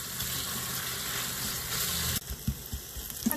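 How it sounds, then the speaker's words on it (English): Oil sizzling and frying steadily in an Instant Pot while potato meatball mixture browns for curry, a continuous bright hiss that drops off abruptly, then a few scattered stirring knocks. "Now cook until it's golden brown."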